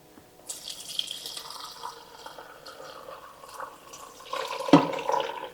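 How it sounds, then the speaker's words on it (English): Ricotta cheese being strained through a milk bag in a small strainer set over a bowl, with whey running and splashing in a soft, close trickle that swells into a louder pour near the end. "And now we're just going to strain the ricotta cheese."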